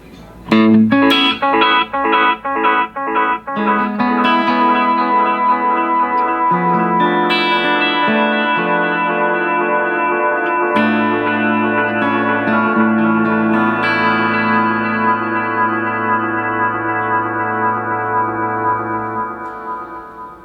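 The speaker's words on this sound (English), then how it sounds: "So that's just a quick demo on the delay itself." Electric guitar notes ringing out with repeating echoes trailing behind each phrase, steady and loud, played alone without any voices.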